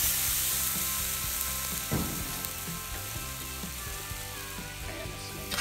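Zucchini noodles and onions fry in a cast iron pan on a refurbished wood stove cooktop, giving a loud, steady, close sizzle with faint crackles and no talking.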